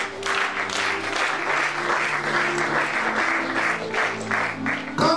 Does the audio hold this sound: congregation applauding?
yes